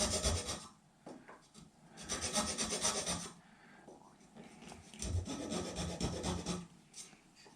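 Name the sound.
file filing a saddle slot on an acoustic guitar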